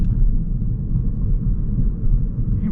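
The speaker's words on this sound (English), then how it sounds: "You get a decent amount of road noise from the tires and everything, but it's not extreme at all" Steady low tire and road rumble inside a moving 2025 Toyota Corolla FX: a constant, moderate drone with no voices.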